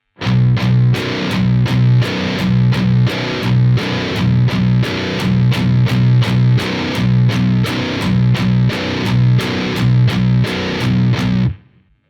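Distorted baritone guitar plays a riff starting with two palm-muted low sixth-string chugs, then a run of the first-bar figure, dense driving rhythm with shifting accents, loud and close throughout before ringing out at the end.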